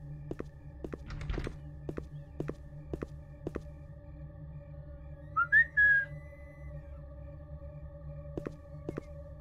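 In an indie horror game, a short rising two-note whistle sounds midway over steady dull thuds like slow footsteps and a constant low electrical hum.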